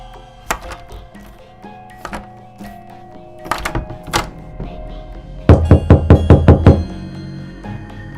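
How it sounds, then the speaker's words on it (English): Knocking on a door as a sound effect in a scary subway story: scattered single knocks, then a rapid run of six or seven louder, close raps near the end, with no speech. "Then there was a soft knock on the door, almost too soft to be heard."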